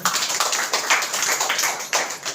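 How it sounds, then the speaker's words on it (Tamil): Everyone at a Tamil church gathering claps their hands for a person who answered correctly, a loud, close, dense patter of many hands with uneven surges that lasts through the whole short stretch. "எல்லாரும் கைத்தட்டுங்களேன்."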